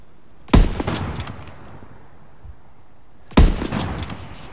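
Two heavy gunshots in Call of Duty: WWII, set in the Battle of the Bulge in the Ardennes, each a sharp, loud blast with a short rolling echo, spaced about three seconds apart.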